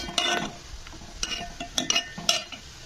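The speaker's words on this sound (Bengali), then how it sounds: "এটাকে কিন্তু মানে এরকম নাড়াচাড়া করতে হবে যতক্ষণ না চিনিটা এই দুধের মধ্যে গলে যাচ্ছে" A spoon stirs boiling milk with sugar and crushed cardamom in a pot for bottle gourd payesh, making several soft scraping strokes in an uneven rhythm against a faint bubbling simmer.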